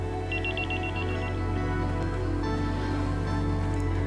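A phone rings with an incoming call, a short burst of repeated electronic chirps near the start, set against a steady low background hum and soft ambient noise; nobody speaks.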